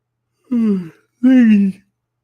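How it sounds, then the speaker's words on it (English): A person yawning twice, each a drawn-out voiced exhale of about half a second, close and loud, with a brief pause between. "sorry, yawning."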